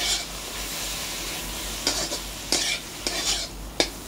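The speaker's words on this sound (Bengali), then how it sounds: "ভালো করে নেড়ে নিলাম বন্ধুরা। দেখুন আমরা এর মধ্যে সস অ্যাড করছি। প্রথমে সয়া সস দিয়ে দিলাম বন্ধুরা" Street-style egg chowmein with soy sauce being stirred in a hot pan: a steady sizzle broken by a handful of sharp scraping strokes, close and clear.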